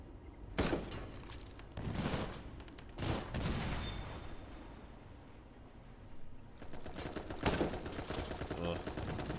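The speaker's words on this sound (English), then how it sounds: "Maybe I should open a fight with sniper fire. And then switch to the assault rifle." Video game gunfire from a sniper rifle and an assault rifle: several sharp, loud cracks, some single shots and some short bursts spaced a second or two apart, over a low steady background with faint chirping.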